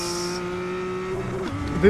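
Tires squealing as the rear of a car slides in a sim racing game, a steady engine tone holding then dropping, with a brief squeal near the end and a voice talking over it.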